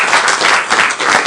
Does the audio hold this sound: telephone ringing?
no